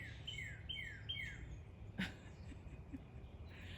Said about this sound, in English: the birds are going insane. They're like fighting and being weird.